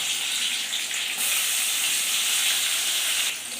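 Onion, garlic and tomato frying in a pan with curry leaves, giving a loud steady sizzle and hiss that swells briefly partway through, with no talking over it.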